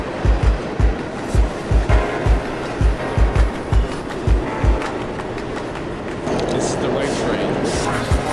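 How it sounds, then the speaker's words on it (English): A New York City subway train rides through Manhattan, its wheels clacking over rail joints in a regular rhythmic beat beneath a loud rumbling roar that swells into a steadier rush near the end. "Subway going uptown by accident instead of downtown"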